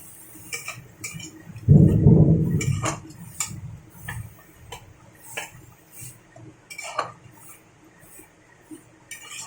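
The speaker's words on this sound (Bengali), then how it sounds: "এখন পাতা বাটাটাকে খুব সুন্দর করে মশলার সাথে একটু কষিয়ে নেব।" Bottle gourd leaf paste sautéed with spices in a pan over a very low gas flame, with a soft burst of stirring near the start and then scattered light clinks and ticks of a utensil against the pan.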